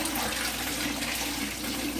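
Tap water pours steadily into a bowl being rinsed out, a loud, continuous close splashing rush that holds with no break.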